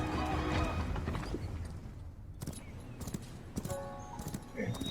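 Horse hooves clip-clop in a VR video game, quick rhythmic hoofbeats with a whinny, mixed with game effects and people talking over them.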